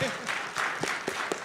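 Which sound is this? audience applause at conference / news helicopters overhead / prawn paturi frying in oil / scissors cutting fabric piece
audience applause at conference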